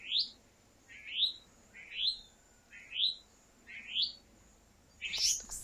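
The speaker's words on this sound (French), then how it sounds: "petit cri d'alarme ou de contact d'un monarque mélanésien ou gobe-mouche à large bec" A Melanesian monarch, also called the broad-billed flycatcher, repeats a thin rising call five times at a steady pace of about one per second, then gives a sharper, higher note. The calls are fairly faint against a quiet outdoor background.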